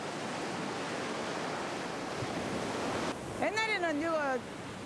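Large sea waves break on the rocky shore of Ulleungdo island in a continuous, loud roaring wash, and near the end a voice briefly speaks over the surf.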